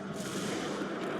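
Ship weapons firing in Homeworld 3, a dense, continuous roar of rapid fire and blasts filling a brief moment at steady loudness.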